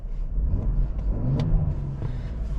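A 2020 Ford Explorer with the 3.0-litre V6 EcoBoost accelerates in sport mode, giving a steady, close engine rumble and drone that swells briefly, with no talking over it.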